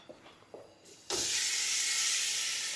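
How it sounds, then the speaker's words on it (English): Ground beef dropped into a hot pan, with a sudden loud, steady sizzle that starts about a second in and holds at full strength to the end. "I'm going to start off by putting our meat, our ground beef, into the pan,"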